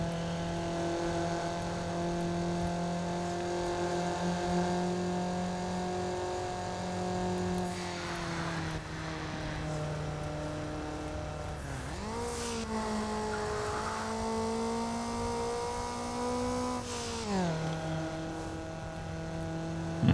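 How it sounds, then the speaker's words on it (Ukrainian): A car in Need for Speed Underground strains in fifth gear, its engine holding a loud, steady, high drone that sags and climbs back in pitch a few times as it struggles to keep accelerating, with no voices. "не вистачає потужності двигуна, щоб далі розганятись на п'ятій на передачі"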